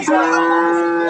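A cow at a Bangladeshi cattle market gives a single loud, close, sustained moo lasting about a second.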